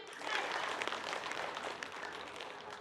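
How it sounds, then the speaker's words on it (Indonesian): Studio audience applause at an Islamic talk show taping, a steady wash of clapping from a crowd that holds for a few seconds at moderate level without any talk over it. "Mana tepuk tangannya?"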